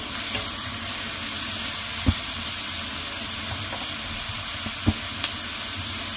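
Onion leeks fry in a pan for a tanmen ramen, giving a steady, loud broadband sizzle with a few faint pops and clicks over its course.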